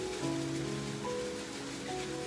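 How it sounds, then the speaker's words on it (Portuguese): Heavy typhoon rain pours in a dense, steady hiss across the whole stretch, with faint tonal hums drifting underneath. "tá chovendo muito, o tufão tá aqui"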